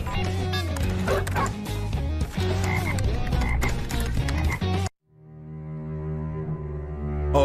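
Frog croaks from an anime scene of poisonous frogs raining down, loud and dense over a music-filled soundtrack, then a sustained tonal passage after a sudden break near the end.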